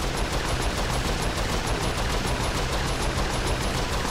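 Rapid, dense gunfire from Saints Row 4 fills the whole stretch as a steady, loud, noisy barrage with no pauses, and no voices come through.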